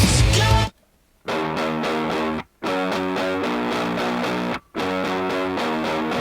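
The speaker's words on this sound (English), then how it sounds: "Very raw, quick distortion on that." Raw, heavily distorted music plays loudly in bursts at the Download rock festival, cutting out abruptly into brief silences before resuming with a gritty, saturated tone.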